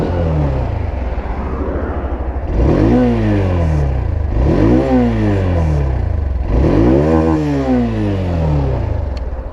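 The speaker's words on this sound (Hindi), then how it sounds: "अब मैं आपको एक्सट्रीम का एग्जॉस्ट साउंड दे दिखाता हूँ।" The exhaust of a Hero Xtreme 160R 2V motorcycle idles and then climbs through three strong throttle blips, each swelling and dropping back, heard loud and close with no talking.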